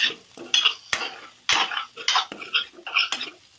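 Okra sabzi dusted with amchur powder is tossed in a pan, with a run of sharp metallic clinks and scrapes from a spoon against the pan at an uneven rhythm, close and clear, with no voices.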